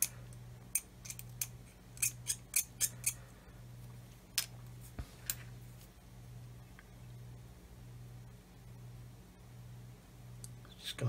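Plastic model kit parts for a Tamiya 1/16 RC Sherman tank are snipped with cutters: a run of quiet, crisp clicks and snaps close up, over a low electrical hum.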